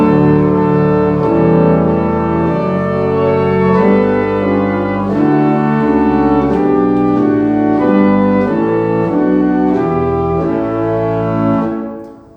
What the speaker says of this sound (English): I'll drop the 4-foot principal off the great and add the swell oboe